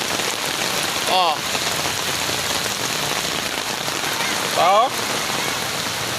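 Heavy rain pours steadily onto surfaces in a flooded neighbourhood, a loud, continuous hiss throughout, with a person briefly exclaiming twice.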